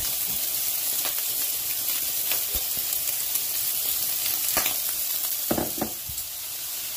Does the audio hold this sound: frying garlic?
yes